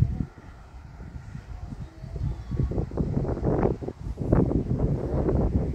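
Strong wind gusts from storm low Sandor in Meschede buffet the microphone with low rumbling surges that swell and fade unevenly, loudest toward the end, with no talk.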